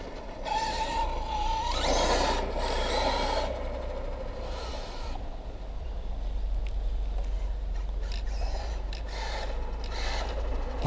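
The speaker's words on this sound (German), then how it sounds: "Ja, man hört die Slipper schreien." Slipper clutch squealing on an HPI Savage Flux RC car fitted with 1:5-scale tyres, shrill rasping screeches in several bursts over a low motor hum, with scraping and rubbing noises between them.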